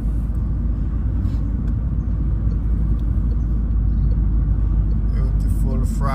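Steady, loud engine rumble and road noise from a car driving through the French countryside, a continuous low drone throughout with faint voice sounds near the end.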